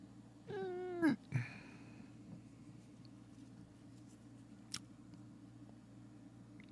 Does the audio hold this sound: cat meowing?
yes